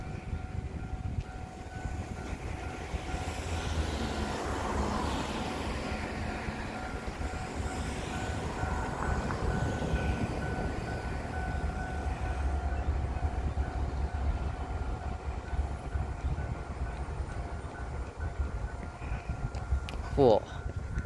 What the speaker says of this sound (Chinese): 货车哎！